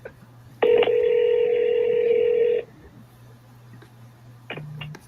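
A telephone call to a property seller: a loud steady dial tone, then a quieter stretch, followed by a short beep-like tone near the end, with no voices.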